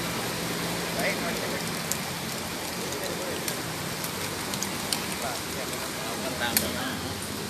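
Steady rain patters down in a continuous wash on an outdoor sports court, with scattered sharper drops ticking on a hard surface close by.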